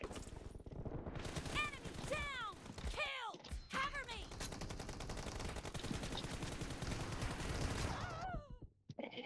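AK rifle fire in a video game: several sharp bursts and rapid strings of shots at close range over a continuous din of game noise, with voices talking throughout.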